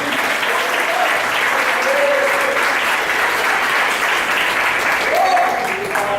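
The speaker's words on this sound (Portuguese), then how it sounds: "Aplaude essa palavra, pode aplaudir." A church congregation at an evening salvation service applauds steadily for several seconds, a broad sustained wash of clapping at moderate loudness with a faint voice or two rising briefly over it.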